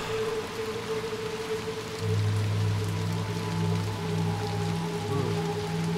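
Steady rain patters on hard surfaces throughout the Little Nightmares 2 game scene, a dense wash of drops joined by a low droning hum that swells partway through, with no voices.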